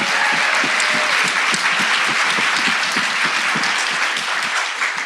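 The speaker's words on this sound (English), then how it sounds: "Can we all give a round of applause for UCAN?" Loud, dense crowd applause at a live panel during the Boston Marathon weekend, continuous rapid clapping filling the whole stretch without pause.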